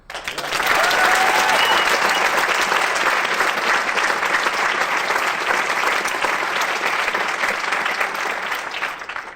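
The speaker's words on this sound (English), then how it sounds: "a round of applause to Joe Pesci and all of those who are participating in Tricklock" A theatre audience breaks into sustained applause, dense and loud throughout, many hands clapping together without pause and no talk over it.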